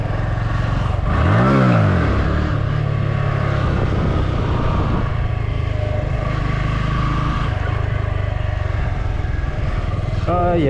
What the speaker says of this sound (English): Look, some motorcyclists.